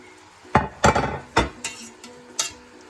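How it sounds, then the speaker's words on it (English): Chopped onions and garlic are dumped into a pot of Jamaican-style oxtail, a handful of loud thuds and clanks against the metal pot in quick succession, with faint sizzling underneath. "I'm going to dump a few pieces of onions and garlic and whatnot that I cut up"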